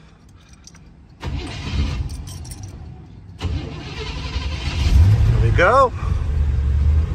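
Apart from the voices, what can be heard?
1940 Ford Deluxe sedan engine starting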